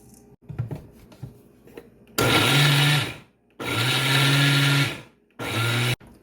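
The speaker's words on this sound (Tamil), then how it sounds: "கலந்த கலவையை திருப்பி ஒருக்க கப்பில் போட்டு சுற்றி எடுப்போம்" A kitchen mixer grinder spins a sesame ball mixture in three loud whirring bursts, each lasting about a second, with brief quiet pauses and a few soft clinks of handling before the first run.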